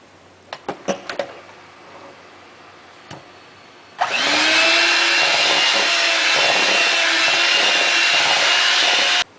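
An electric mixer creams butter, sugar and Crisco shortening for a pound cake, switching on after a few light knocks and running as a loud, steady whirring drone for over five seconds.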